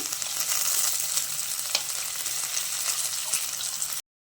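Green chilies, carrot and coriander deep-frying in hot oil as part of a semiya upma, giving a steady, close, dense sizzle with faint crackles for about four seconds, then cutting off abruptly; no voices.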